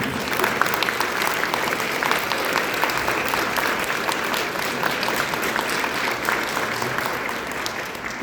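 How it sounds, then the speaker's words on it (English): A graduation audience claps for school staff, a dense, steady wash of applause from many hands that holds for several seconds before easing slightly, with a faint crowd murmur underneath. "Please give a round of applause to those special Beacon staff members."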